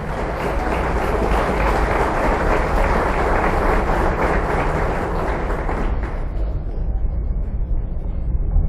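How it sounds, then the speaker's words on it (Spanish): Congregation applauding at a church service, a dense, loud wash of clapping that holds steady for about six seconds, then thins and fades. "Sería bueno que lo aplaudan si lo creen."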